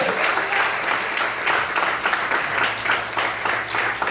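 Church congregation applauding during an evening service, a steady wash of dense clapping that holds at a fairly even level throughout, with a low sustained tone underneath.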